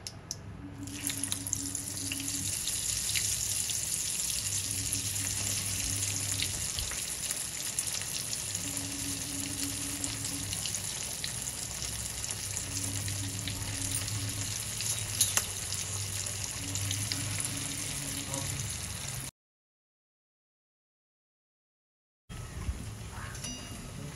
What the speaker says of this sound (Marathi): आता आपण वडी तळून घेऊया. तेल गरम झालंय.